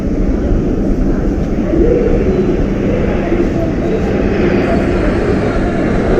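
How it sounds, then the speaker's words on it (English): An airborne early warning and control aircraft leads four Rafale jets in arrow formation over the Republic Day parade, producing a loud, sustained rumbling jet roar with a voice faintly underneath. "Airborne early warning and control विमान AEWNC 4 Rafale arrow formation में 415 kilometre की रफ्तार के साथ।"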